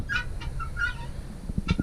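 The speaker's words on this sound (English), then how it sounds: "The guineas are making some noise." Guinea fowl on a homestead give several sharp, repeated calls close by, with scratching and bumping sounds underneath.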